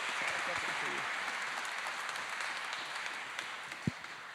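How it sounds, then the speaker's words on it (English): Steady applause from an audience in Hart House Great Hall at a race car unveiling, a dense wash of clapping that continues evenly, with a faint voice briefly at the start. "And can we have a round of applause for our RLX solution"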